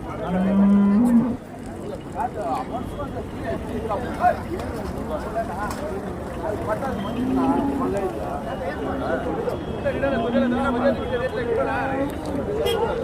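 Cattle moo at the Chintamani cattle market in Karnataka: a short loud low call at the start, with fainter moos later. Crowd chatter and people talking nearby run throughout.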